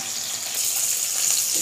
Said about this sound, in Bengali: পটলগুলো আমি হালকা করে ভেজে নেব, হালকা একটু ব্রাউন ভাব হবে তখন আমি নামিয়ে নেব।